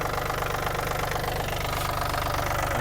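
A Yanmar AF-22 mini tractor's small engine idles steadily up close, with a rapid, even knocking chug throughout.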